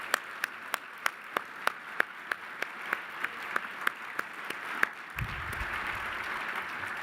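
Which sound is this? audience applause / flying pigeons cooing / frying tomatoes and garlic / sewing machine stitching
audience applause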